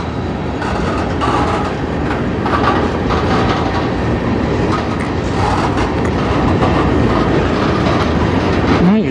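A CN freight train rolls slowly into the yard at Sarnia, Ontario, with a steady rumble of wheels, rhythmic clacking over rail joints and a brief wheel squeal near the end.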